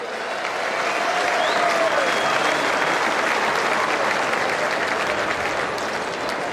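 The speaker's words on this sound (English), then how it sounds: "A round of applause, everyone, to receive the 2012 John Todd Medal." A crowd applauds at the presentation of the 2012 John Todd Medal after a WAFL grand final, a loud, sustained, even wash of clapping with a faint crowd murmur beneath.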